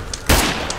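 Gunfire in the zombie survival video game State of Decay 2 during a headshot attempt: two loud, sharp, close shots less than a second apart, each a broad cracking burst with no voices.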